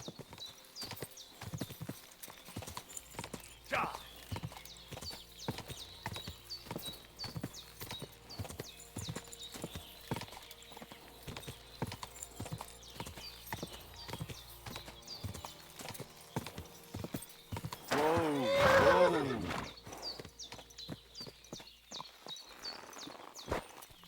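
Horse hooves clip-clopping steadily at a walk in Kingdom Come: Deliverance II, close and continuous, with a loud neigh rising near the end.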